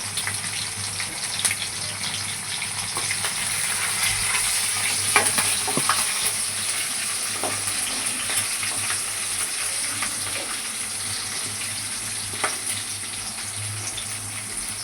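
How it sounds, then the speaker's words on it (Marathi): Green chillies sizzle in a hot pan for chicken fried rice, a steady close frying hiss with light stirring scrapes and clinks scattered throughout. "आणि त्याच्यावरच मिरची पण टाकूया. ही मिरची पण भाजेल"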